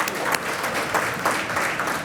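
A keynote-event audience applauding steadily and fairly close, a dense wash of clapping that holds level for about two seconds with no talk.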